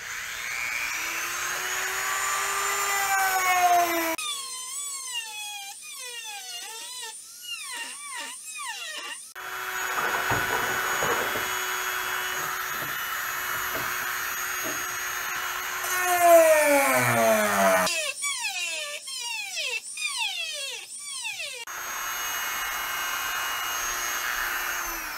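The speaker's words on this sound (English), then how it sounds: "I'm just going to try to use the sander so I can take a little bit at a time without taking any big chunks out of it" Power sander taking small bites out of bolt slots on an off-road project vehicle, whining in several close passes that rise and fall in pitch, with short pauses between them and no talk.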